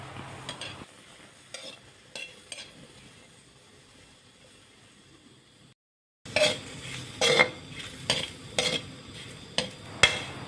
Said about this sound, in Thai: ผมคั่วลงไปด้วยกันเลย คั่วไปเรื่อยๆนะครับ จนพริกสุกนะครับ